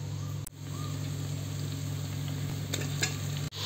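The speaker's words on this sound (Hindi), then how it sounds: "अब हम इसमें जो मैरिनेट किया हुआ सब्जी है वो हम इसमें डालेंगे" Marinated vegetables tipped into a pot of partly cooked rice for veg biryani, giving a steady close sizzle and stirring rustle with a few brief clatters near the start and end.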